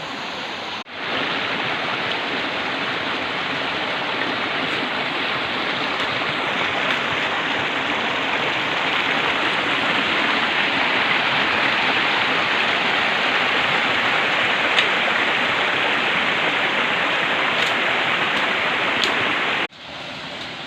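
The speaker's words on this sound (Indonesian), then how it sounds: "Ini judulnya, air terjun yang kita nanti-nantikan." Steady, loud rush of water falling down the three-tiered Sarasah waterfall, a dense broadband roar that holds constant throughout with no voices.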